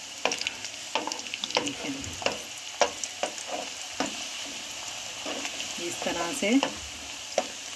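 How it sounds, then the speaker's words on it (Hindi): Puris deep-frying in hot oil for a halwa puri breakfast, a steady close sizzle with repeated spoon or slotted-spoon taps and stirring knocks throughout, and a brief voice speaking over it. "हम इसमें ये पूरियाँ डाल देते हैं और इसको हम फ्राई कर लेते हैं।"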